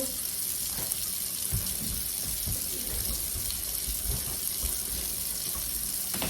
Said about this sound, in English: I'll put the cold water on